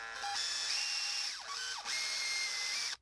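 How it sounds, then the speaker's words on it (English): A small power drill bores a hole for wire through a handmade fishing lure, producing a steady high whine that dips twice in pitch under load before recovering, close and alone, cutting off at the end. "I'm going to use the diameter of the wire itself to drill the hole."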